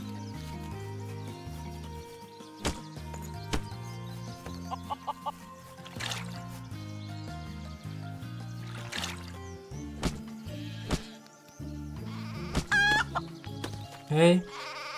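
Chickens clucking in the farming video game Craft The World, faint clucks over looping game music, with a brief louder burst near the end.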